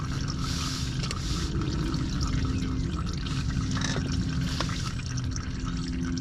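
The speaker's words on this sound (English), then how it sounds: "You're gonna let that go until it gets to like a steady drip." Engine oil drains from a 2000 Lincoln Town Car Cartier L with a 4.6 engine into a pan, a continuous loud pouring stream with splashy drips layered over it, close and steady.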